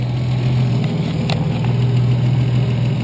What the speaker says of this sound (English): it might have a little bit of lifter tick